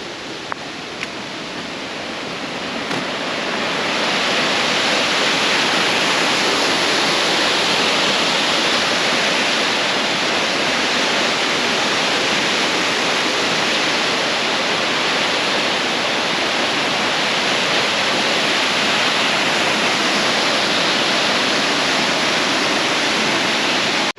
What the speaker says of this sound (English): Wow, look at that waterfall, guys.